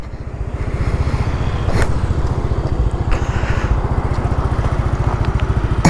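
A faulty motorcycle engine leaking oil idles close by, a steady rapid low chugging throbbing evenly throughout with no talking.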